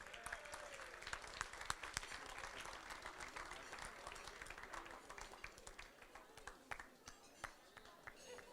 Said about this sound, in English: let's please have a big round of applause